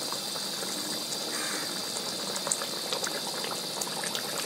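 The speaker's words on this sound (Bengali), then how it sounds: "দেখুন বন্ধুরা, ঝোলটা খুব সুন্দর ফুটছে।" Fish curry gravy for halua fish bubbling steadily in a pan, a continuous close simmering hiss with scattered small pops and bursts, no voices.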